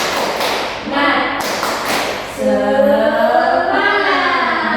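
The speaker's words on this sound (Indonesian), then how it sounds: "Coba Ibu tes lagi deh, tepuk semangat." A schoolroom of children does a rhythmic spirit clap (tepuk semangat), a run of sharp, close claps and thumps in a patterned beat, with the class chanting along and a teacher's voice mixed in.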